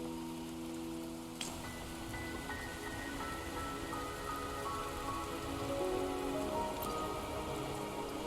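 Steady rain patters on surfaces in a fantasy video game. The hiss is soft and continuous, with faint drips and a couple of sharp ticks, and no one speaks.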